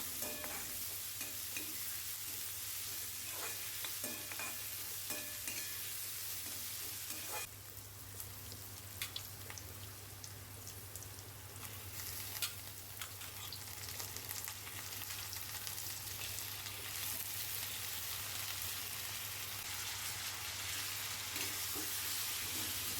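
Onions and prawns fry in a pan for a prawn fry, a continuous close sizzle with stirring and scraping, a brief louder burst of crackle partway through, and a low steady hum beneath.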